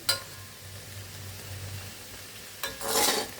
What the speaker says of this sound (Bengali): আমি এটা ভাজা ভাজা করে নিয়েছি।